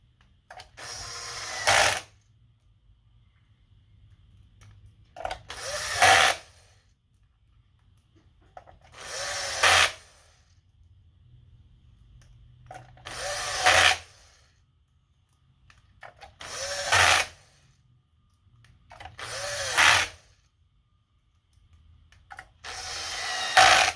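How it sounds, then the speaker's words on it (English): An electric driver with a T9 bit runs small T9 screws into an Xbox Series S casing, six or seven short whirring bursts evenly spaced, separated by near silence. "We're going to take our T9 bit and our smaller T9 screws and secure it in all of those slots there."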